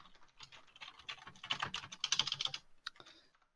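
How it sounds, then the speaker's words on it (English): Rapid, loud typing on a computer keyboard clatters in close, irregular bursts of keystrokes for several seconds before trailing off, with no voices. "Sorry for typing so loud."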